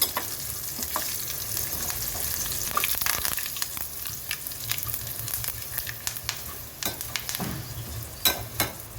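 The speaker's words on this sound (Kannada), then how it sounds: "ನೋಡಿ, ಕರಿಬೇವು, ಮೆಣಸಿನ್ಕಾಯಿ ಹಾಕ್ತೀನಿ." Curry leaves and chillies sizzle in hot oil for dal khichdi, a steady frying hiss broken by sharp spits and pops, with a low hum beneath and no voices.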